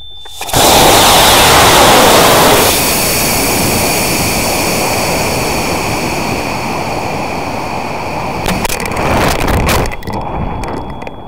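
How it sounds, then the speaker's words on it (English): A model rocket on a CTI I-175 motor ignites with a loud roaring rush that swells, holds for a couple of seconds, then fades into a long hissing burn and wind noise with a few clicks near the end. "The flight here looked great on a CTI I-175 rocket motor"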